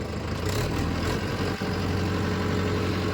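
Mahindra Yuva Tech tractor driving a 585 rotavator in a field, its diesel engine running loud and close with a steady low throb and constant rumble throughout.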